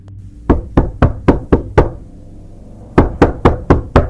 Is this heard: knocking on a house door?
yes